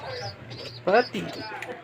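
A short burst of soft, throaty pigeon cooing, heard close by over a low background murmur.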